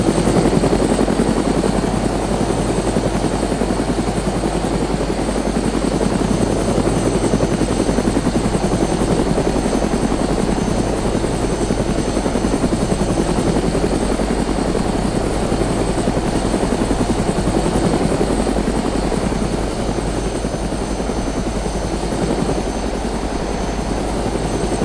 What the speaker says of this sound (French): C'est un truc de fou comme tu te déplaces vite dans un hélicoptère.